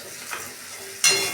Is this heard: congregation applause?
no